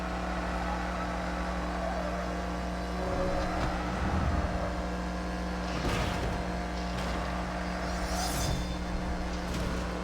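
Race cars roar in a Need for Speed No Limits hunter race on mobile, with a constant droning engine hum and occasional swelling passes. No voice is heard.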